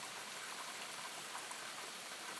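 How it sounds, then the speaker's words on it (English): Steady rain falls at night, a dense, even hiss of drops spread across the whole clip with no voices or other sounds on top. "Yeah, it's raining."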